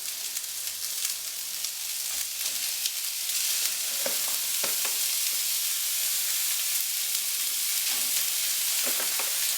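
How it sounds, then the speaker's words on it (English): Minced meat fries with browned onions in a pan, a steady close sizzle and crackle with occasional scraping stir sounds throughout, no talking. "the onions are brown now, so I'm just going to add in the mince"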